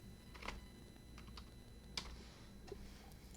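Soft, quiet keystrokes on a computer keyboard as a verification code is entered, a few scattered taps with short pauses between them and no talking.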